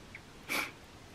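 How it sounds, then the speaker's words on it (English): A single short sneeze during allergy season, a brief faint burst of breath in an otherwise quiet room. "and I'm gonna sneeze again"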